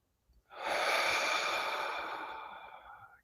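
A single deep, slow breath during a meditation session, a long airy exhale that starts strong and gradually fades over about three seconds, close and alone in a quiet room.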